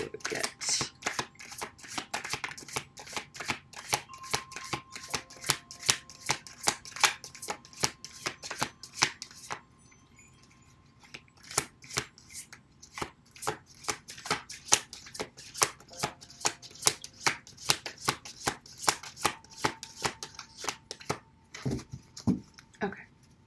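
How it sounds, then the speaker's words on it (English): Chakra cards are shuffled by hand in quick, crisp riffling bursts, close and repeated, with a short pause midway before the shuffling resumes. "I'm going to start off with my chakra cards here."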